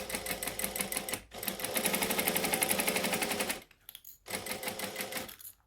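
A sewing machine stitches through a thick fabric wallet with a magnet in it, running in a fast, even mechanical chatter, stopping briefly, running again, then pausing for a needle-down pivot before a final short burst.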